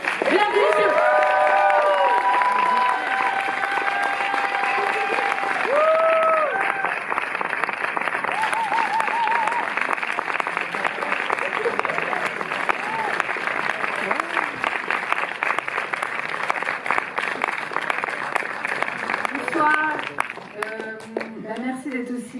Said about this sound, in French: je vous demande de faire un tonnerre d'applaudissements pour les boss ladies de l'équipe